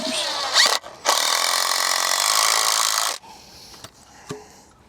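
A power drill drives screws into wood for a simple cross beam. One loud, sustained whir runs for about two seconds, with shorter bursts before and after and a few quiet knocks, all close by.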